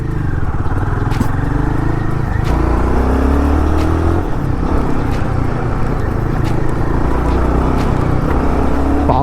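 Royal Enfield Guerrilla 450 motorcycle accelerating on the road, its single-cylinder engine note rising and pulling steadily in the foreground, loud and continuous with wind rush throughout.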